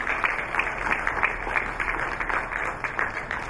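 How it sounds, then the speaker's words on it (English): Steady applause from a panel discussion audience, fairly quiet and even, with dense clapping continuing throughout. "A big round of applause for him"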